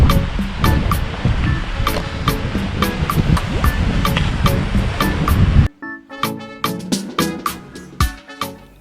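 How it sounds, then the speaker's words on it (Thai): Continuous rushing wash of sea waves on Ko Kut island, Thailand, loud and close, then it cuts to a quieter passage of distinct taps or clicks. "นี่เป็นทะเลหน้าที่พักครับ"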